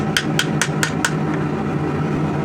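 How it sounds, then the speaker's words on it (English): A rawhide mallet strikes metal on a fantasy warhammer being finished, giving five quick, sharp knocks in an even rhythm, followed by a softer sixth tap before the room goes quiet. "My rawhide mallet to bring things back where they should be."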